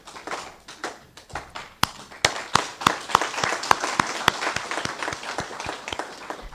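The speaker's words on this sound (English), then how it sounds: "we can give them a standing ovation as we clap hands for them" Audience applause for the winners at a TEVET incubation hubs launch in Malawi: scattered claps that build into brisk, uneven clapping from a modest crowd, with a few loud individual claps standing out.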